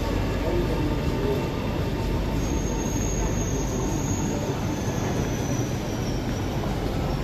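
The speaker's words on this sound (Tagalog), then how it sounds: "Ayan, ayan ang train." An MRT train pulls into Serangoon station in Singapore, a steady low rumble of rolling cars with a faint high squeal partway through, filling the platform at moderate volume.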